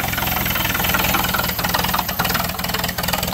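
The original engine of a 1929 doodle bug tractor idles loudly and close, a steady rhythmic chugging with a slight knock and no talk over it.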